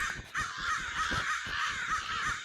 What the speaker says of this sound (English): these crows here? It's a horrible sound, by the way.